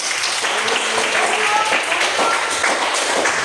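Classroom applause from students at a vocational agribusiness and technology school, dense steady clapping filling the whole stretch at moderate loudness, with faint voices mixed underneath.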